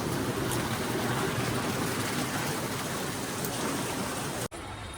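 Dense, steady roar of heavy rain pouring down at Dadar market, loud and unbroken, cutting briefly near the end.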